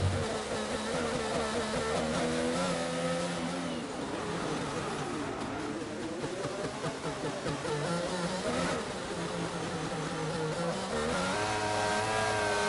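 Racing cars from a sim racing game at a wet Monaco circuit, engines droning and revving continuously at steady loudness with overlapping whines from several cars close by.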